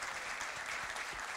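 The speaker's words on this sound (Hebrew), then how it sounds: "מחיאות הכפיים" Audience applause at a community stage event, a steady dense patter of many hands clapping, fairly faint and distant, with no talk over it.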